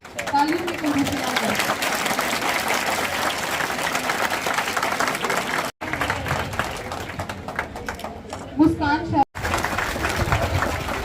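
An audience at a government higher secondary school award ceremony with police attending claps continuously through a busy hall, with brief cuts and people talking underneath.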